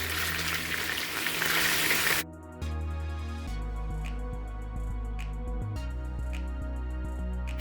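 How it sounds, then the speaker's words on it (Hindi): Spicy chicken pieces sizzle loudly in hot oil for Pakistani-style fried chicken, a dense crackling hiss lasting about two seconds before it cuts abruptly to steady background music. "ये देखें मैंने पलटा है और इसको हम अच्छी तरह पहले फ्राई कर लेंगे"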